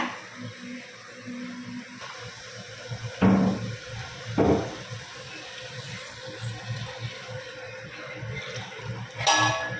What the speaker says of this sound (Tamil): அதை வந்து இந்த கிளாஸால் அஞ்சு கிளாஸ் ஊற்றிக்கலாம் தேங்காய் பாலை